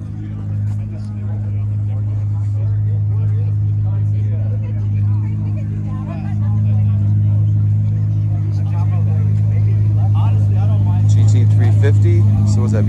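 A 1965 or 1966 Ford Shelby GT350 pulls out at a car meet, its deep engine rumble steady and loud close by, with crowd chatter and people talking throughout.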